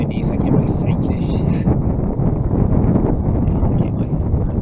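Strong gusty wind roars across a lake and buffets the microphone during float tube fly fishing, a loud, continuous low rumble with a voice faintly underneath.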